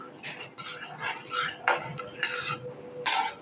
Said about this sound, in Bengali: এখন খুব ভালো করে এটাকে নেড়ে চেড়ে জাল করে নেব।